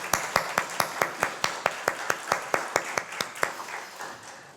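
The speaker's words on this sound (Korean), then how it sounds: "우리 가브리엘 성가대에게도 우리 축복의 박수 하겠습니다" A church congregation claps for the choir in crisp, evenly spaced unison beats, about twenty sharp claps at a steady quick tempo. The clapping is fairly faint and trails off softer at the end.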